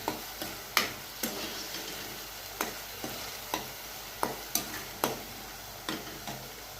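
Eggplant roasting in oil in a pan, a low steady sizzle broken by regular sharp clicks and scrapes of a spatula stirring, close and fairly quiet.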